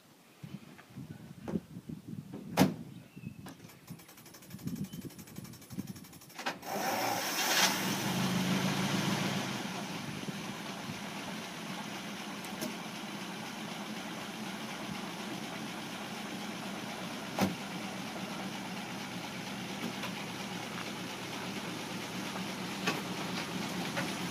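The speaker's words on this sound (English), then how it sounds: "So this is the famous Cadillac V8." A 1918 Cadillac V8 engine cranks with some clunks and rattles, then catches and settles into a steady, loud, close running rumble that holds for the rest of the time, with no talking over it.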